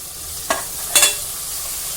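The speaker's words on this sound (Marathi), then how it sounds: "हा कांदा आता मंद आचेवर आपण परतून घेऊया" Diced onion sautéing in a pan on a low flame, a steady soft sizzle broken by two brief stirring scrapes, close and alone with no talk.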